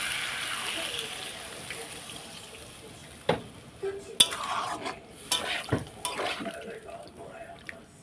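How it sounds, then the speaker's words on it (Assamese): Water splashes into a hot frying pan of fish and potato curry with a brief sizzle, followed by a few sharp clanks and scrapes of a utensil against metal. "এতিয়া আপোনালোকে মই পানী দিম সিজিব দিম"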